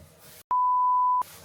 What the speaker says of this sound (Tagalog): nag-alarm yung phone ko